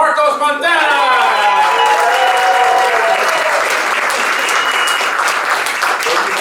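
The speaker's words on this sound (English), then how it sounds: "Clap it up for Marcos Montana!" A comedy club audience claps loudly and continuously for a comedian at Eastville Comedy Club, with a voice calling out over the opening seconds before the applause carries on alone.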